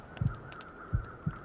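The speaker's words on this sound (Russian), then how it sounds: "я уже слышу, как сердце бьется." A slow, muffled heartbeat from the survival video game The Long Dark while the character suffers hypothermia: three deep, soft thumps spaced unevenly over a faint steady hum.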